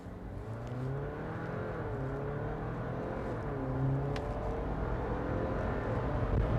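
Cabin hum of a 2022 Jeep Wrangler 4xe accelerating in a timed run, a steady low drone with tones that rise and shift across several seconds, continuous and moderately loud without speech.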